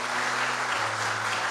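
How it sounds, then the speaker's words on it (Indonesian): Church congregation gathered for a Sunday service applauds in a brief, even burst of clapping heard up close, with no pauses or peaks. "Kenapa enggak panjang tepuk tangannya?"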